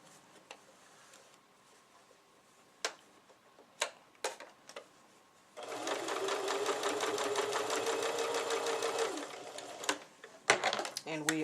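Sewing machine stitching a quarter-inch seam on a quilted clapboard project, running steadily for several seconds as a loud continuous mechanical buzz, preceded and followed by scattered clicks and handling taps.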